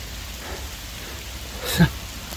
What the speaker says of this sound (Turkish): Abi felaket yağmur başladı.